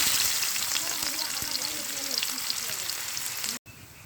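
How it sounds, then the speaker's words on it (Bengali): Chopped onions sizzle and crackle in hot oil in a wok with a steady, close hiss that cuts off abruptly near the end. "কড়াইতে তেল দিয়ে নিলাম। এখন দিয়ে দিব পেঁয়াজ কুচি।"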